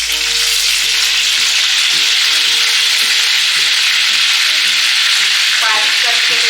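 Curry leaves and cumin seeds hit hot oil, making a loud, close, continuous crackling sizzle with occasional stirring scrapes.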